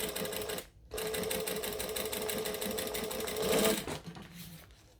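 A sewing machine stitches card slots into place with a steady mechanical whir, close by, pausing briefly near the start and then running on until it trails off.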